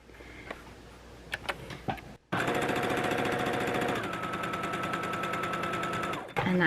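A sewing machine runs in a rapid, even stitching burst through fabric pieces for half-square triangle quilt blocks, close and steady for several seconds, after a few faint handling clicks and before stopping abruptly.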